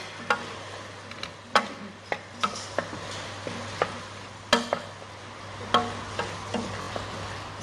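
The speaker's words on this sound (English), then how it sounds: "Give it another bit of a stir." A spoon stirs chicken, potato and leek pie filling in a pan, knocking the metal in sharp, irregular clinks over a low sizzle and steady background hum.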